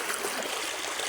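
A strong river current surges past during a crossing, a loud, close, unbroken rush of churning water with no speech over it.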